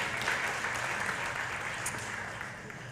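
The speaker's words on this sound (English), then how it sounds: "so a round of applause again for changing the narrative" Audience at a community faith forum clapping steadily, a dense wash of many hands that holds fairly even before easing slightly toward the end, moderately distant in a large room.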